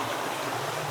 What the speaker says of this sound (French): C'est la flotte qui coule.